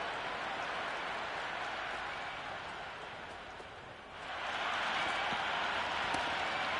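A stadium crowd roars in the cricket video game Cricket 26, a dense continuous wash of cheering that dips slightly midway and then swells louder again, with no clear voices standing out.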